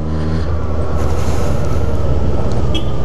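A motorcycle engine rumbles loud, low and close on a cold ride, holding a steady drone throughout without any talking.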